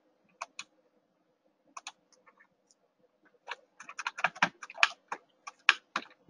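Keys clack on a computer keyboard while entering measurements in SketchUp kitchen-design software: a few isolated taps, then a denser burst of quick, close keystrokes in an otherwise quiet room.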